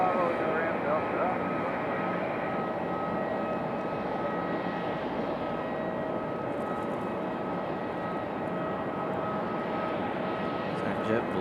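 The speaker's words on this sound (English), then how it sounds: "So JetBlue from Boston. And that E190." A JetBlue Embraer E190 arriving from Boston at Raleigh-Durham gives a steady, moderately distant jet engine rumble and whine, with speech heard over the aircraft noise.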